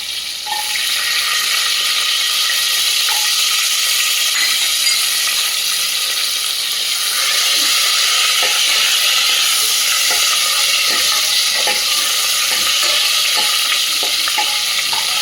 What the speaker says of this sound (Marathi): आता हे शेंगदाणे टाकू. ओले भिजवलेले.